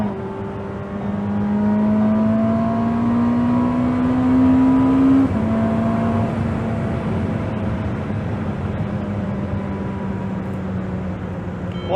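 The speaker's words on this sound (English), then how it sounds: "I'm pressing full throttle." A modern car engine held at full throttle with catalyst overheating and performance limited, droning steadily up close for about twelve seconds with a brief rising then dipping tone and little change in pitch.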